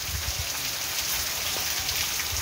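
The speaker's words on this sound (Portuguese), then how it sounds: "Olha só, pessoal, chuva muito boa, deixou a rua cheinha d'água" Heavy rain pours down steadily on a street filling with water in Amaniutuba, Ceará, a dense, close hiss of drops with no talking.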